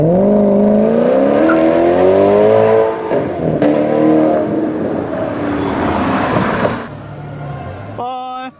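A Maserati supercar revs and pulls away, its engine note rising and falling loudly up close before fading, with voices talking over it.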